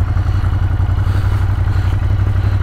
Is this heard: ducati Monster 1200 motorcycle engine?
yes